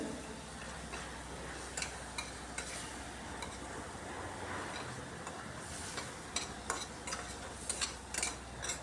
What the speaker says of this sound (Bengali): টমেটোর সাথে এই মশলাটাকে এখন ভালো করে কষিয়ে নিতে হবে যতক্ষণ না মশলা থেকে তেল ছেড়ে আসছে